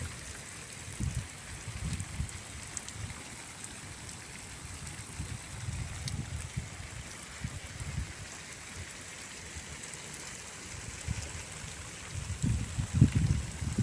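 Heavy rainwater flows and rushes during a village storm, a steady broadband wash with faint drumming of rain, moderately quiet and continuous, with a few low bumps near the end.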